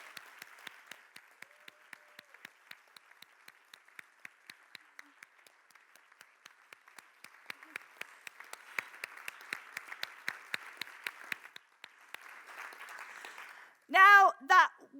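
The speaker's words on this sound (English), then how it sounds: "A round of applause." Audience applause at Scratch Conference Europe 2019 fills the room with a steady patter of many hands clapping for over ten seconds, then fades as a voice begins speaking.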